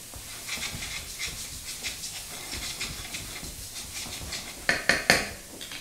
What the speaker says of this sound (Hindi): हाई फ्लेम पे स्टर फ्राई करें